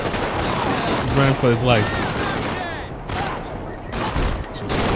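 Rapid bursts of gunfire erupt in a GTA 5 police-patrol shootout with the LSPDFR mod, loud cracking volleys over a tense exchange, while a voice shouts briefly in the middle.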